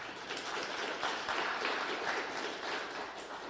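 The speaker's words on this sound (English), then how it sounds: "Let's give a welcome applause." A church worship congregation gives welcome applause, a steady wash of many hands clapping at moderate volume, with no talking over it.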